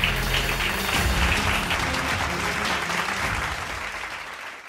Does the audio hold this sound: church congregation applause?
yes